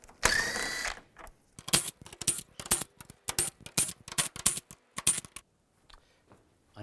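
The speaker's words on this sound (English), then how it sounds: "we're going to take these 10mm bolts out" A ratchet with a 10mm socket works headlight bolts loose on a 2015-2020 Cadillac Escalade, giving a burst of rapid clicking and then quick, irregular runs of sharp, close ratcheting clicks with short pauses between them.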